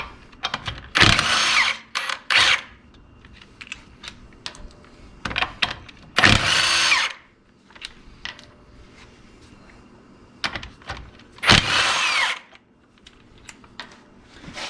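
An air impact wrench spins lug nuts off a car wheel in several loud, separate bursts of rattling hammering, divided by quieter pauses with small clinks of the nuts and tool.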